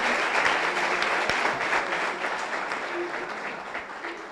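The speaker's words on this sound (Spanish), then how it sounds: "Le pido un fuerte aplauso para Marcelo" Warm applause at a conference on fall prevention in older adults, greeting a speaker from Paraguay; a fairly distant, even clapping from a seated audience holding steady throughout.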